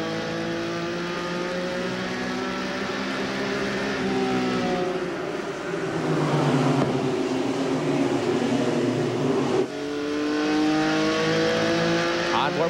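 ASA race cars roar around USA International Speedway in Lakeland, Florida, engines droning loud and steady with rising and falling pitch as the pack passes through the turns, a commentator talking over the racing.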